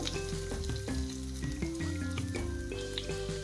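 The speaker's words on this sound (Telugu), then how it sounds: "ఇప్పుడు మనం దంచుకున్న అల్లం పచ్చిమిర్చి ఉల్లిపాయ పేస్ట్ వేసుకున్నాం" A pounded ginger, green chilli and onion paste hits hot oil with fried dry red chillies for a brinjal dish. A continuous close sizzle runs under prominent background music.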